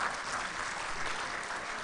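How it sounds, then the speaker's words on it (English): A conference audience at WCIT 2016 claps in a steady, dense round of applause that stays even throughout, heard from within the hall at moderate volume. "A round of applause."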